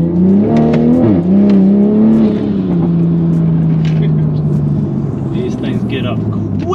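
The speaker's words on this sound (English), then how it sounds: "we always take it out for a street test just to make sure that we don't get any drivetrain malfunctions" A tuned Toyota Supra accelerates hard on a street test run, its engine note climbing loudly through the gears, then settling into a steady high-speed drone with wind and road noise underneath.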